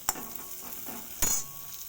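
Chilli pieces frying in a pan, a faint sizzle broken by two sharp clinks of a utensil against the pan during a brief stir.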